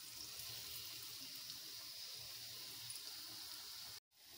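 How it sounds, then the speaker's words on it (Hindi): Bread slices frying in lightly warmed ghee in a wok, a steady dense sizzle and hiss that holds evenly throughout, then cuts off abruptly near the end. "तो चलिए इसमें हम अपने ब्रेड के स्लाइस को डाल लेते हैं।"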